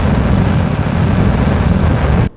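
The old stock rocket engine in Kerbal Space Program gives a steady, dense, hissing roar that holds evenly for about two seconds and then cuts off abruptly.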